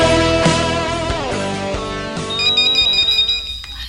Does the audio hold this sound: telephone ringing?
yes